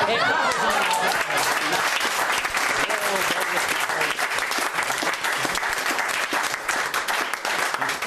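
An audience applauds a close-up magic trick with dense, sustained clapping that fills the whole stretch at strong, even loudness, with no pauses or talk standing out.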